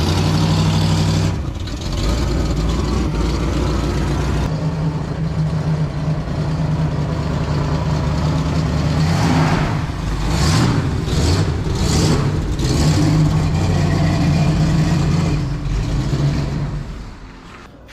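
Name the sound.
Hornet car engine running while backing up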